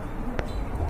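Homa pigeons coo softly in a loft among other birds. A low, brief coo comes up under a faint background murmur and a single sharp click.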